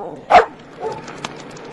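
A single loud, close dog bark stands out, followed by quieter scuffling and faint background noise.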